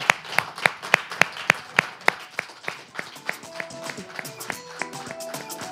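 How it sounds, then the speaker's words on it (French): An audience welcomes a guest with steady, rhythmic clapping in time, with sharp distinct claps at first that soften as music enters and plays beneath them. "Et on accueille donc en musique Rock Katako avec des applaudissements"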